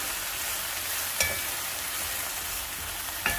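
Chicken stir-fry sauce bubbling in a pan: a steady, fairly close hiss and crackle of simmering, broken by two sharp utensil clicks or taps, with no talking.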